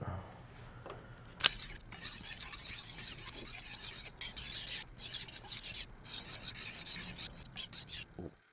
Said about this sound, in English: Let's polish it with 6000 grit.